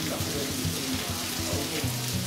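Rain falling steadily at a coastal spot in Toba, Mie, Japan, a dense continuous wash of patter with low rumbling underneath, fairly loud and without a break.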